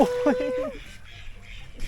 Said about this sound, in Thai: เจ้าเป็ด เจ้าเป็ด เจ้าเป็ด